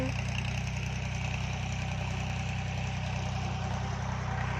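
A tractor engine drones at idle with a low, even chug that holds the whole time, no voices, slightly distant.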